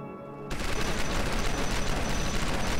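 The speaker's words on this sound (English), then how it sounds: "What is that laser shooting at now?" Laser turret firing in the video game Starforge: a steady, dense, loud stream of rapid shots that starts abruptly after a quieter moment and continues without a break, with no talking.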